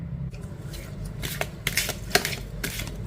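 Tarot cards being shuffled by hand in a series of brisk riffling bursts and soft slaps, close and fairly quiet over a low steady background hum, with no talking.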